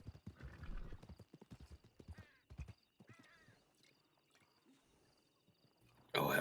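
Horses arrive in a western roleplay video game, hooves clip-clopping in quick rhythmic bursts with a neigh mixed in, fading to sparser steps before a sudden loud noise at the end.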